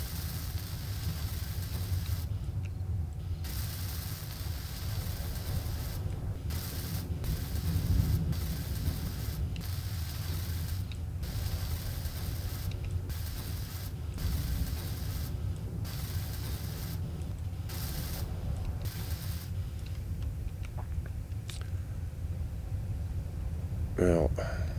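In the game Space Engineers, a welding tool builds up blocks with a faint, continuous mechanical whirring and ratcheting, broken by several short pauses and ending with a brief sharp sweep.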